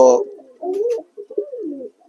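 Close, soft cooing of racing pigeons in a loft, a few low rolling coos in succession, with no talking.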